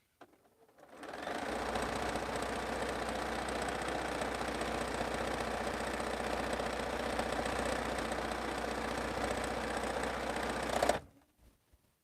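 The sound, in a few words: sewing machine stitching a quilt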